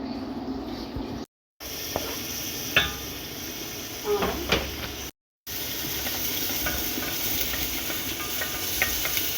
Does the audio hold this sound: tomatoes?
yes